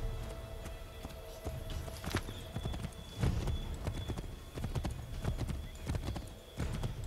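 Horse hooves clip-clop on a road in the video game Assassin's Creed 3, with a steady walking rhythm and occasional snorts and heavier thumps over faint ambient game sound.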